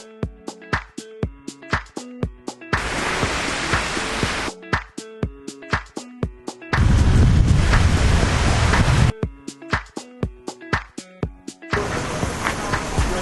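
Wind and surf at a beach at Railay, Krabi, Thailand come in as loud broadband rushing bursts, alternating with stretches of a rhythmic plucked melody. The gusts are strongest and deepest in the middle burst.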